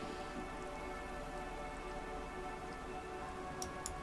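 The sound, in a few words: rain falling on a police car, from the video game Disco Elysium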